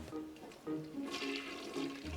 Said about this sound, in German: Bingo, die Klospülung.